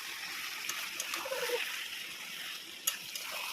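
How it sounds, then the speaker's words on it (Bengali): Water splashes and trickles into a home cooking pot, a soft, fairly faint pour with a few small splatters and no talk over it. "তো মা এটা একটু জল দিয়ে দিচ্ছে"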